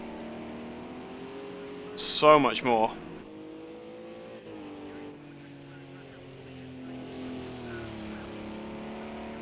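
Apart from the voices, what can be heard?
GT3 race cars at Texas Motor Speedway in video game Project CARS 2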